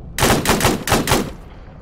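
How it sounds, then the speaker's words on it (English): An enemy SU-25 jet strafes with its cannon in Arma 3: five loud, rapid bursts of gunfire in quick succession, close and harsh, fading into a brief tail. "it's an enemy SU-25 strafing us"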